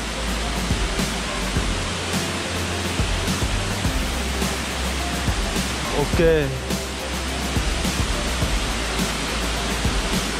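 Tạt Nàng waterfall in the forest of Vân Hồ, Sơn La, roaring with a loud, steady broadband rush of falling water, close by, while someone talks over it briefly.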